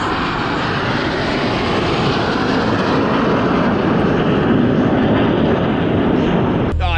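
A loud, continuous roar of an airplane engine passing overhead at an air show, broad and rumbling, steady throughout before cutting off abruptly.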